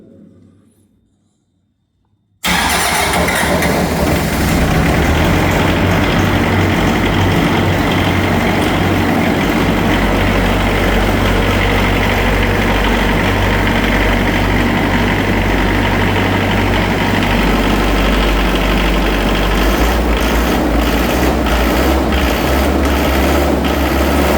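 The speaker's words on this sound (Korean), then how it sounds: "소방 제어반을 통해서 엔진 한번 돌려보도록 하겠습니다." A building's diesel fire pump engine in Mapo is started from the fire control panel and roars into a loud, steady, close idle after a brief quiet moment.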